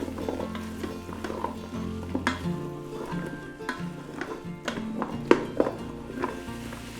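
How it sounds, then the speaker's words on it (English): Vegetables sauté in melted butter for a ham and split pea soup, with a steady soft sizzle under occasional spoon scrapes and light pan knocks from stirring, close by and moderately loud. "So add in your vegetables. Give everything a little stir."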